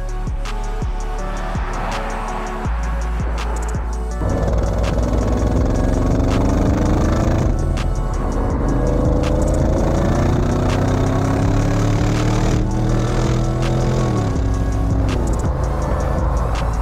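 An Audi RS6 V8 rated at 600 hp and 800 Nm cranks to life with a sharp rise after a few seconds, then settles into a loud, steady, rumbling idle that rises and falls slightly with revs.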